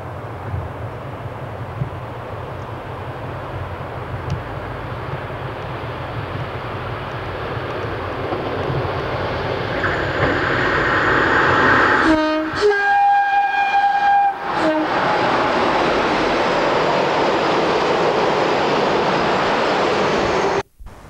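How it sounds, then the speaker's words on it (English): A British Rail freight train hauling empty acid tank wagons rumbles past at Bromsgrove, a steady loud roll of wheels building up, then a series of sharp clanks and joint beats as the wagons pass, ending abruptly. "we can see 6V14 with empty acid tanks for Bagland Bay."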